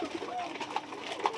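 Koka pigeons on a farm coo in a few soft, short calls, with one brighter coo near the end, over a steady background of low chatter and bird noise.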